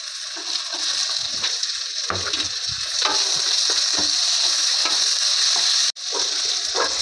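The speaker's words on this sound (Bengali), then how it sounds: "আদা রসুন, টমেটো, পেঁয়াজ সব একসঙ্গে ভালো করে ভেজে নিয়েছি" Ginger garlic paste with tomatoes frying in a pan for chicken curry, giving a steady, loud sizzle throughout with occasional stirring scrapes and a brief drop near the end.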